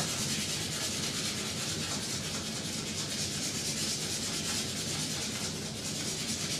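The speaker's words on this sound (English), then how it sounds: "the final step is the fine sandpaper, which has a yellow backing" Steady, continuous scratchy rubbing of fine yellow-backed sandpaper on a wooden CO2 car body, a soft even hiss with no pauses, close by and alone.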